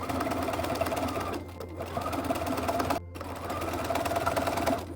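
A domestic sewing machine stitches a pocket seam on a fantasy tabard costume, running in steady continuous bursts with a dense mechanical whir. It pauses briefly twice, then resumes, close and fairly loud with no voices.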